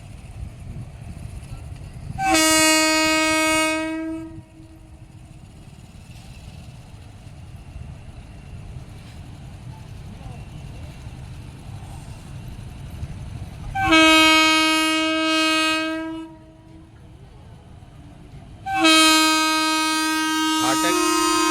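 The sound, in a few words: passenger train passing a closed level crossing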